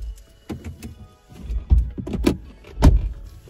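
Power windows on a Mercedes-AMG C63 W205 being lowered inside the car, a faint motor whir with several soft thunks and clicks from the cabin.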